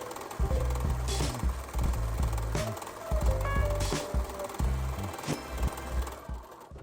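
A serger sewing machine stitches fabric around a corner in short stop-start runs of rapid mechanical chattering, close and fairly loud, with brief pauses and small clicks between bursts.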